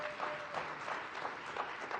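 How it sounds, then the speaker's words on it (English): Steady applause from an audience at a disability rights event at the State Department, a dense, even wash of many hands clapping throughout without letup. "So a huge round of applause for Tom as well"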